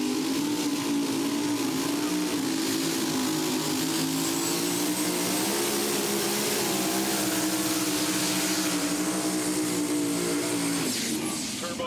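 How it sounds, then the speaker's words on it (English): At a pulling event, a turbocharged mini rod engine holds a loud, sustained, droning roar with a whining turbo edge, rising and wavering slightly in pitch as it strains under load, close and unbroken throughout. "Turbocharged mini rod there"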